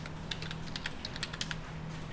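Fast typing on a computer keyboard, a quiet run of close, crisp key clicks in short bursts over a low background hum, with no talking.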